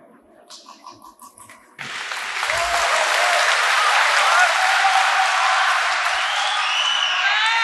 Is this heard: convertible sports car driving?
no